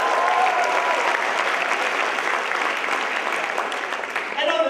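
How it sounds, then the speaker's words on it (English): A crowd at a comedy debate event claps for the debaters, a dense, steady burst of applause that fills the room and fades slightly toward the end. "Give them a round of applause."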